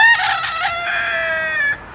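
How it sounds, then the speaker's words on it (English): A rooster on a family property in Alabama gives one full, close crow lasting about two seconds, bright and clear with a drawn-out final note that cuts off cleanly. "That's the rooster."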